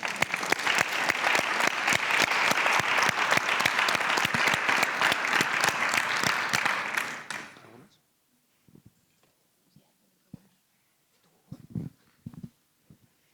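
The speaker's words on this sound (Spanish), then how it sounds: "así que el aplauso para ellos." Loud, dense applause from a crowd for about seven seconds, fading out into near silence with a few scattered bumps.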